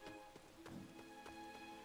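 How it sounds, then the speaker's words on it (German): Rain falls in the LEGO The Hobbit video game, a faint, steady patter of drops on surfaces with a few soft splashes, heard alone without talk. "Ach, jetzt regnet es schon wieder."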